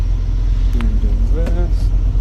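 A John Deere 6810 tractor with an intermittent starter rumbles at auction, its heavy low engine drone steady and close while a voice talks over it.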